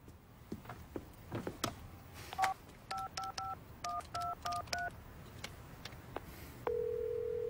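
Telephone keypad tones beep in a quick run of paired notes, followed by a steady, sustained ringback tone toward the end, with faint clicks and rustling beforehand and no talking.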